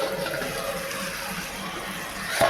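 Water pours in a steady, continuous stream into a cooking pot of fish curry with taro, a close, even splashing rush lasting the whole moment and ending in a brief clatter.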